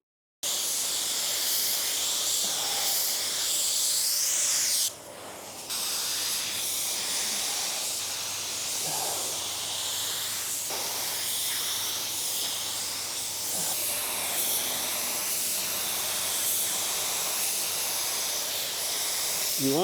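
A spray gun with its trigger only partly pulled hisses steadily as it lays sealer onto a car panel, one long airy spray with a brief break near the middle and faint background noise.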